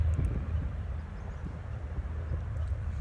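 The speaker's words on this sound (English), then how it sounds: "Especially these smaller prop planes." A low, distant drone from a small propeller plane flying overhead rumbles steadily, with faint wind noise and no voices.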